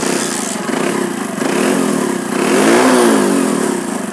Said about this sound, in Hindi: अब बाइक को स्टार्ट करके देखते हैं।